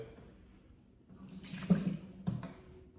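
Water splashes and trickles into a container for a couple of seconds, close and moderately loud, with a short second pour after.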